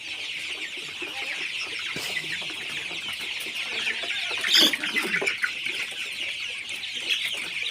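Chickens and young chicks on a poultry farm raising Sonali chickens cluck and cheep continuously at close range, a busy flock chatter with one louder burst midway and no talk.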